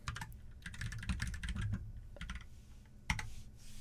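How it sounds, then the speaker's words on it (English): Computer keys clatter in quick, irregular bursts of close taps, with brief pauses between runs and one sharper keystroke near the end, and no talk over them. "try typing this into the chat"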